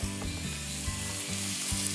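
Crushed garlic cloves sizzle in a hot pan, a close, continuous crackling fry broken by a few soft thuds of stirring, with no voices.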